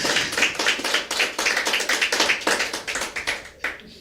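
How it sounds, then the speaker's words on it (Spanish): Rhythmic clapping from a church congregation during a Christian sermon, sharp hand claps in a fairly steady beat, fairly close and loud, tapering near the end. "Y esto merece un aplauso, nuestro Dios"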